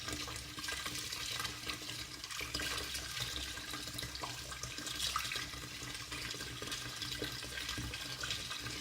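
Lukewarm tap water runs steadily over an orchid's root system during repotting, a continuous close hiss and splash with slight shifts in the flow as the roots are moved, and no talking.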